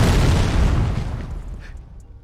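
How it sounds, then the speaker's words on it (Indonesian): An ambulance explodes in a film, a heavy low boom that rolls and fades over about two seconds, loud and close, with faint debris ticks at the tail and no talk. "ambulan itu meledak dan seketika membakar sang ayah"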